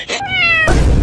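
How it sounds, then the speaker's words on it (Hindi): A cat meows once in a drawn-out, rising-then-falling cry, loud and close, cut short by a burst of broadband noise. "कभी बिल्ली का आवाज आ रहा है"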